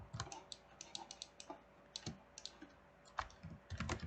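Keys on a computer keyboard click in irregular bursts of quick taps with short pauses between runs, close and fairly quiet, with no voices.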